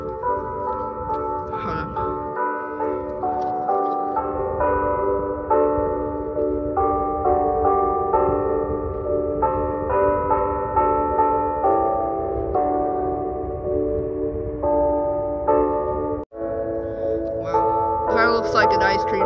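A carillon at an Orthodox church in Rye Brook rings out a continuous tune of Orthodox church songs, with clear, ringing bell notes following one another steadily over about twenty seconds, briefly cutting out near the end.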